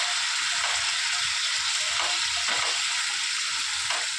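Potatoes seasoned with turmeric and salt fry for aloo dum, making a loud, dense, continuous sizzle close up, with faint stirring scrapes now and then and no talking.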